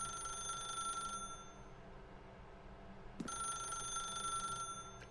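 A telephone rings inside the dark office of The Stanley Parable Ultra Deluxe on PS5, a steady electronic trill that drops out for a couple of seconds and then resumes, moderately loud over a low room hum.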